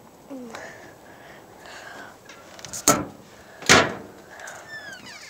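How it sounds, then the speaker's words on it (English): Two doors shut one after another with solid thuds, the second louder, amid quiet indoor background noise. "Now I gotta go close the damn doors."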